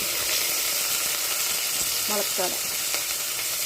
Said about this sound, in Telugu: ఎప్పుడైనా ఏ రసానికైనా తాలింపు ఇలాగ మంచిగా వేగాలి